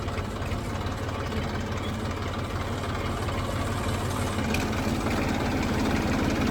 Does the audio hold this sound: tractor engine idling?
yes